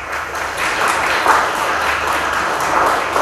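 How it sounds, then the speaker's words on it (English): Church congregation at Sunday Mass gives a round of applause, a steady, moderately loud patter of many hands clapping with no talking over it. "he deserves a round of applause."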